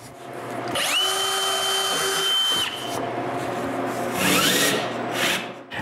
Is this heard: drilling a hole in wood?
yes